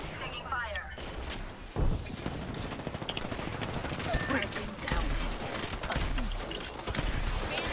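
Shotgun blasts and other gunfire crack repeatedly in a video game firefight, sharp close bursts over constant battle noise, with a voice talking throughout.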